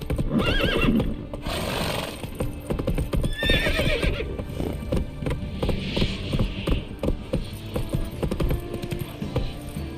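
The horse Roach galloping in The Witcher 3, fast hoof clatter running throughout, loud and near, with a couple of neighs and whinnies near the start over game ambience.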